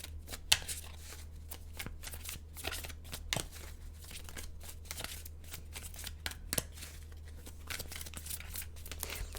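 Tarot cards shuffled by hand, a rapid, continuous riffle of crisp papery slaps and flutters with small louder snaps, close and steady over a low hum, no speech.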